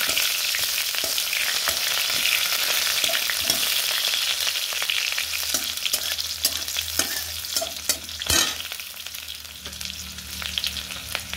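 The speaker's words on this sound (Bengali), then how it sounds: "এই যে দেখুন খুব গরম হয়ে গেছে, এবং পেঁয়াজ আর আদা কুচিটাও দিয়ে দিলাম" Chopped onion and ginger hit very hot oil with a loud, dense crackling sizzle, and a spoon stirs and taps against the pan at intervals. Toward the end the frying eases slightly, and no one speaks.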